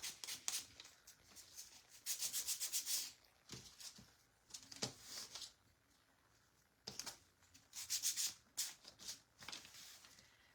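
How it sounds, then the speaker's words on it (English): Sandpaper rubs along the edges and over the top of a wooden craft tree in short, close scratchy strokes, some quick and rhythmic, others slower, separated by brief pauses. "I just sand around the edges, and then I kind of sand over the top just to give it that little, you know, grain look"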